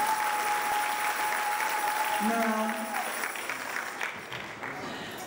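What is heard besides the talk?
audience applause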